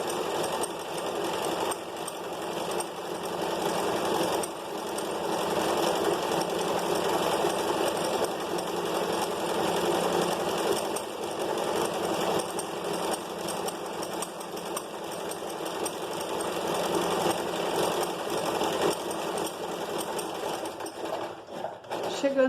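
Domestic sewing machine running continuously as it stitches the side seam of a flared skirt, a steady close whirring drone with the needle's rapid rhythmic chatter throughout, ending with a short reverse stitch.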